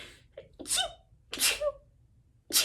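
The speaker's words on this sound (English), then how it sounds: "I have to sneeze, excuse me" Three sharp sneezes in a row, loud and close, each preceded by a short inhaling gasp, with quiet pauses between.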